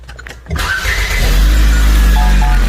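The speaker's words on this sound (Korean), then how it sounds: "제가 시동 한번 걸어보겠습니다." A 2010 Renault Samsung New SM5 LE with about 210,000 km cranks briefly, then catches and settles into a loud, steady idle heard from close inside the car.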